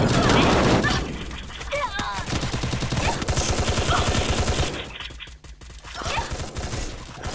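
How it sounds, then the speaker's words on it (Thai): Rapid bursts of automatic gunfire from above in a video game, dense rattling volleys that continue almost without pause, with a brief lull midway before the shooting resumes. "ยิงมาแต่ข้างบน"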